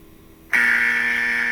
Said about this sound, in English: I was gonna try to play a buzzer sound